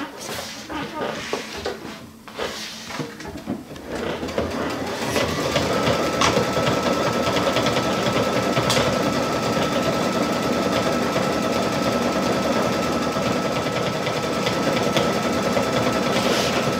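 A Baby Lock embroidery machine stitches a design with a magnetic frame, giving a steady, fast mechanical whirr and rapid needle chatter that settles into a continuous even drone after a few seconds of starting up.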